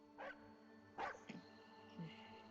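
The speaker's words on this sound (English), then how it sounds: "And this time you hear dogs barking." Dogs bark in a game's sound effects, giving a few faint, distant barks and yips at uneven intervals, about three short bursts over a couple of seconds, with no speech.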